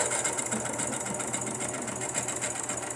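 A sewing machine stitches through strips of paper, its motor whirring in a fast, continuous rhythmic chatter, close and steady for the whole stretch.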